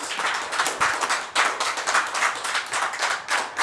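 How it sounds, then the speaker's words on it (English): An audience at a residents' conference claps for a community hero award winner, a dense, steady burst of many hands with a rippling rhythm, fairly near and loud throughout. "Big round of applause"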